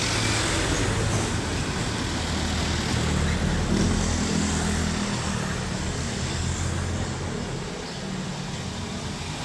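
Jeepneys and other traffic pass on a busy road near Pasig Palengke, a dense, continuous rumble of engines with low droning passes that swell and ease off, loud and close, without any talking.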